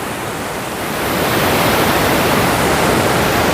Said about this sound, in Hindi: पानी का शोर देखें यार, और ये पानी देखें किस तरह आ रहा है